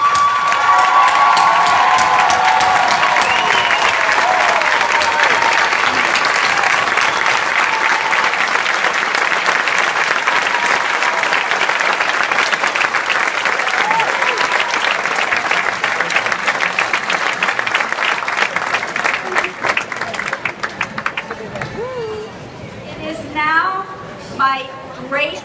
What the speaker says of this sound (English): I ask you to rise and applaud this extremely gifted class of